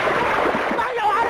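Water splashes and gushes steadily as it is poured in a comedy scene, a dense wash of liquid noise with voices faintly underneath.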